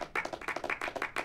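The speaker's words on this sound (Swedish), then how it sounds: "Publiken applåderar." A circus audience claps briskly for about a second, the hand claps dense and rhythmic, fairly close and with no voices over them.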